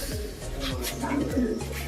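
Pigeons in a loft coo repeatedly nearby, soft throaty calls rising and falling in a steady rhythm, with faint background murmuring.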